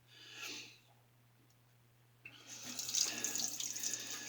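Water from a tap runs briefly, pauses, then gushes more strongly as a vintage Christy razor is rinsed under it; close splashing into a sink with no talking.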